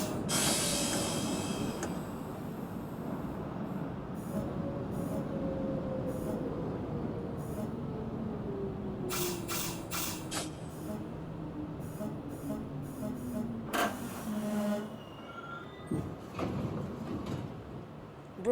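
A New York City 6 subway train bound for Brooklyn Bridge rumbles loudly through a station with a long falling whine, bursts of hiss, and clattering wheels. Automated announcements are heard over it.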